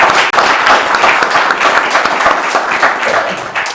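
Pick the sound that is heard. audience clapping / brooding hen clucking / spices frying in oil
audience clapping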